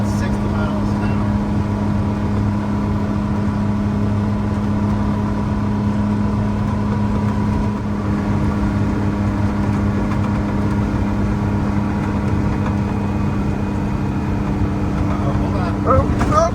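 Cabover bus driving at about 60 mph, heard from inside as a steady droning engine hum with constant road rumble, loud and unbroken throughout.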